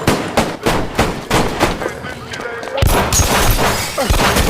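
Gunfire rings out in a gangster shootout in the heist thriller Triple 9: a rapid series of loud, sharp shots, a brief lull with scattered noise, then a dense, heavy burst of firing.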